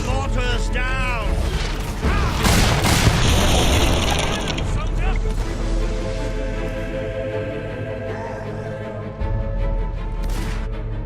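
Booming blasts and crashing debris during a mortar battle in the fantasy game Fable III, loud layered explosions rolling under game music and voices talking.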